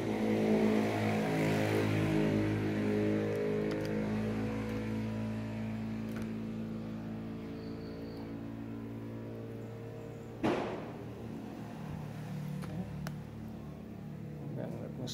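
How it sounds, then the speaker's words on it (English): Newman motor with neodymium magnets running, a steady tonal electric whir with harmonic hum that slowly shifts in pitch, moderately loud and close, with a single knock partway through. "I will turn on the motor."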